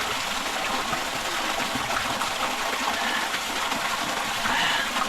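Spring water flows from a natural spring beside Cabag Falls in Barangay Lucsuhin, Cavite, a steady, continuous rushing trickle at close range with no voices.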